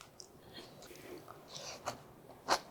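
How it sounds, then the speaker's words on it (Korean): Crunchy bean sprouts dressed with red chili powder are chewed close up, a few soft crisp bites building to a sharper crunch near the end, quiet and alone in a hushed room. "이제 고춧가루를 넣은 콩나물을 먹어볼까요?"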